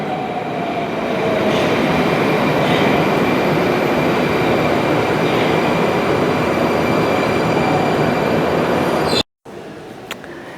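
A Moscow subway train roars loudly and steadily nearby, with a continuous rumble and faint high squeals, then the noise cuts off abruptly near the end.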